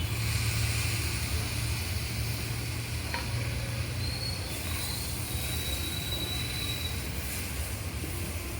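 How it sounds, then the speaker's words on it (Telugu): Turkey berries, drumstick pieces and tomato fry in a little oil, giving a continuous, even sizzle with soft stirring noises throughout and no talking. "ఉసిరికాయలు, మునక్కాళ్ళు, టమాటా ఆయిల్ కొద్దిగా బాగా ఫ్రై అయ్యాయి కదండి."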